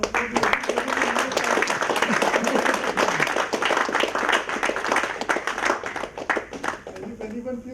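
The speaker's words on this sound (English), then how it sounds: "Mr. Sridhar deserves a big round of applause." A crowd claps steadily at the Tamil Nadu State Startup Conclave, with a dense, sustained patter of hands mixed with voices throughout and tapering slightly near the end.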